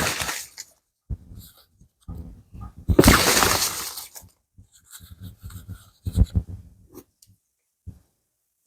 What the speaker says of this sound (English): We are doing live shuffling